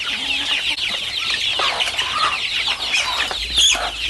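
Free-range village chickens cluck and call steadily near and at mid-distance, a busy farmyard chorus with overlapping hens and a rooster-like cry near the end, no talking.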